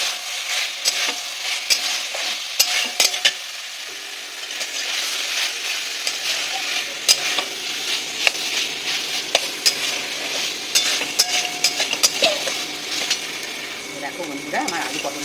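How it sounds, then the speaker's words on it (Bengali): Potatoes and pointed gourd being stirred and fried with spices in a pan, a steady sizzle broken by repeated scraping strokes of a spatula, close and continuous with no talk. "আমার আলু পটলের সঙ্গে মশলাটা কষানো হয়েই গেছে প্রায়"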